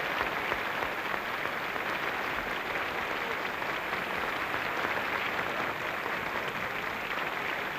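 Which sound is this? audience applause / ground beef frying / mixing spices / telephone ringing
audience applause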